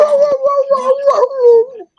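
A dog named Abby howls and whines indoors to be let out, one long, loud, close wavering howl with rising and falling pitch that trails off at the end.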